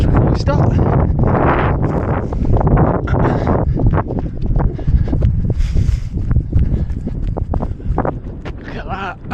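Gusty wind buffets the microphone in loud, rough bursts at a cross-country race at Cotswold Farm Park, with a person talking over the blustery noise.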